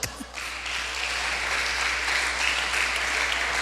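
A crowd applauds steadily, a dense even patter of many hands clapping that holds at a moderate level throughout.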